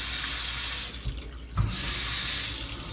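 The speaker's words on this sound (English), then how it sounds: "That's the hot water." Hot water runs from a newly installed sink faucet in a steady hiss, briefly dropping away mid-stream before resuming at full flow, close and alone.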